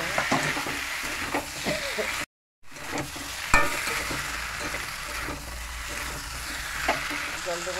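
Pointed gourd frying with spices in a pan: a steady sizzle with scraping stirs and a few utensil clinks, broken by a brief silent gap, close and fairly loud.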